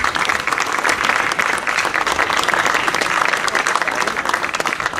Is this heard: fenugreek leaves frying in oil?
no